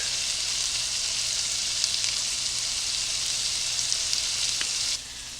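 Pork chops seasoned with salt, black pepper, paprika and garlic powder sear in a skillet, a steady loud sizzle that holds evenly and drops off abruptly near the end.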